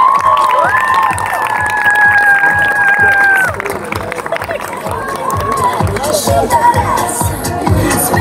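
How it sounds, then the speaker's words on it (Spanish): Crowd at a Harry Potter Book Night cosplay award ceremony cheering and applauding a Dobby costume winner, loud shouts and excited voices with clapping in a noisy hall, sustained throughout. "Fuerte aplauso para Dobby."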